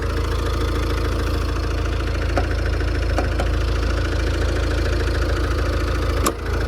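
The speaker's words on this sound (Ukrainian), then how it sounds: "подивіться, як працює двигунчик" A 2014 Fiat Freemont 2.0 diesel engine idling close by, a steady low rumble with a faint rhythmic knock and a few soft clicks.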